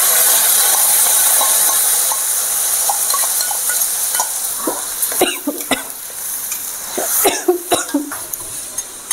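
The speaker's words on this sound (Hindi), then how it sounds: "ये मसाला को भूज रहे हैं हम अभी" Masala fries and is stirred in a hot pan for a paneer curry, with a loud, continuous sizzle close by and spatula scrapes and knocks growing more frequent toward the end.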